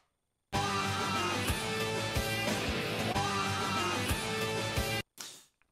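Electric guitar plays the bridge riff from the outro of a song, a driving, dense rhythmic figure with steady accents, loud and continuous for about five seconds before stopping abruptly.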